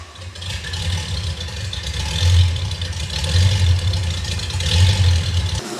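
Car engine running on a dyno with the mufflers off, a loud, throaty roar that swells and surges in repeated waves of revving, close and unbroken with no talking.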